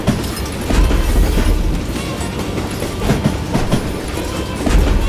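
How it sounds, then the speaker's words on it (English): A train rolls past in the Western shooter game Gun, a steady loud rumble with repeated clickety-clack wheel beats over continuous rail noise and no voices. "Just gotta get past the train."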